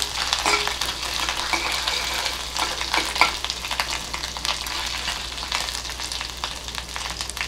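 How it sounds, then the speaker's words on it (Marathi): Ginger, garlic and chili paste sautés in a hot pan, a steady close sizzle broken by clinks and scrapes of stirring, with no voices. "थोडासा त्याचा कच्चापणा जाईल इतपतच आपल्याला परतून घ्यायचं ते."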